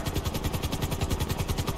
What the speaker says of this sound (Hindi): ये है हेलीकॉप्टर